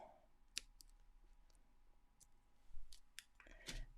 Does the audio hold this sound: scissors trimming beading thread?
yes